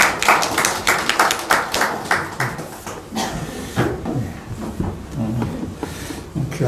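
A church congregation at a Sunday service claps in a brisk, loud, rhythmic burst, then the claps grow softer and more scattered, and a few voices come in near the end.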